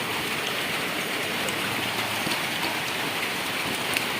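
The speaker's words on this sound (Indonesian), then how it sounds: "Hujan sahabat, hujan lebat." Heavy tropical rain falling at a home after a fishing trip with a cast net, a constant, full downpour hiss with scattered drop impacts, heard alone without speech.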